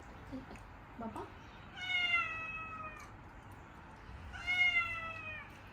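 An orange house cat meows twice at close range, each a drawn-out, clear cry about two seconds apart, over a quiet indoor background.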